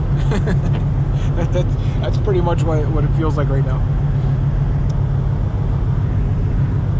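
A car loaded with heavy scrap metal drives early in the morning, giving a loud, constant engine and road drone throughout, with a person talking over it for the first few seconds.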